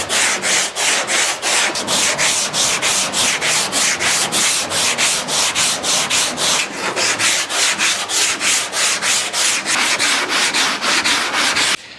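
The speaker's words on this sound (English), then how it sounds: "Oh yeah, we got some sanding to do." Rhythmic, loud scraping strokes of block sanding across primer on a 1953 GMC truck door, with a steady back-and-forth rasp repeating about twice a second and continuing for the whole stretch.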